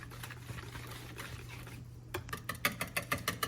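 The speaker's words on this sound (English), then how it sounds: "Now we're gonna whisk it all together." Eggs and pancake batter whisked in a bowl, faint at first, then a quick close run of rhythmic tapping strokes over a low steady hum.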